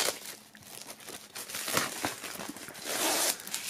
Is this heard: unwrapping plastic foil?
yes